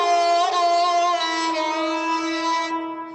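Sarangi playing a morning raga phrase, a sustained bowed melodic line with rich harmonics that glides between notes, loud and close, with no voices, ending after about three seconds.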